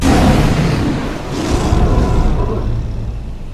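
A lion roars in the wild, a long, loud, rumbling roar that swells and fades over several seconds with no voices.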